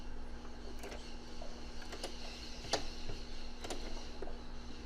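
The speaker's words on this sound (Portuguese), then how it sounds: "Agora eu vou virar para um lado e vou passar outra costura aqui em zigue-zague também" A domestic sewing machine runs a zigzag seam on fabric, faint rapid ticking stitches under a steady motor hum, with a few sharper clicks spaced through the passage.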